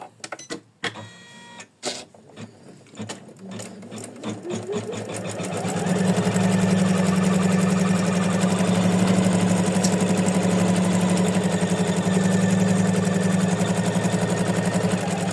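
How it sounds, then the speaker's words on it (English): An embroidery machine starts up and stitches a placement line on faux leather and backing fabric in a 4x4 design, beginning with a few clicks and whirs and settling into a loud, steady, rapid mechanical hum. "So we start stitching with the placement line."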